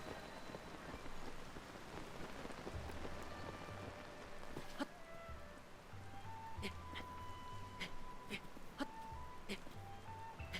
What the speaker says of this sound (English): Plus it's raining, so I can't exactly climb at the moment.